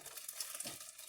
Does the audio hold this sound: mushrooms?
yes